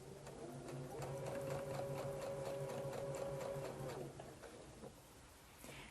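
Sewing machine stitches a log cabin court house steps quilt block, a soft, rapid mechanical whirring hum running steadily for about four seconds before easing off into quieter handling noises.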